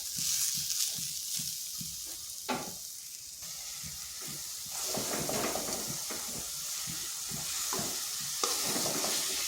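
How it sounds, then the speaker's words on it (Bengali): A filling of chopped patali jaggery cooks in a pan, a constant sizzle and hiss broken by repeated scraping stirs at an uneven rhythm, close and moderately loud. "এরপর পুরটা বানিয়ে নিচ্ছি।"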